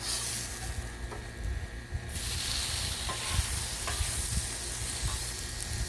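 A tomato sears on a griddle in a panini press with a loud, continuous sizzle that swells brighter after a couple of seconds, with occasional faint pops and scrapes.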